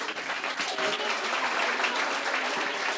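Audience applause at a public debate on urban public space in the Canary Islands, a steady, moderately loud wash of many hands clapping that continues unbroken for the full few seconds.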